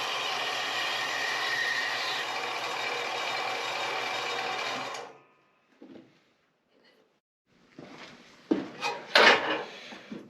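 A saw cuts through steel at a 35 degree angle for a Kubota B2601 rock bucket build, a loud steady grinding roar lasting about five seconds before cutting off, followed by quiet and then clanks and knocks as the steel is handled.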